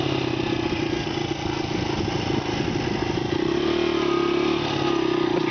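A Honda XR80 motorcycle held in first gear while climbing a street hill, its small engine droning steadily at high revs throughout, loud and close with a constant buzzy tone.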